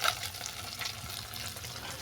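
Fish fries in hot oil seasoned with black cumin seeds, a steady close crackling sizzle with a fine spitting texture that holds evenly for the whole two seconds.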